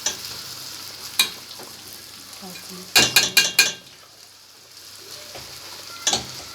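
Tomato paste frying in a pan with a soft, steady sizzle, broken by a few sharp scrapes and clinks of a spoon stirring against the pan, a quick cluster of them midway, close and without talk.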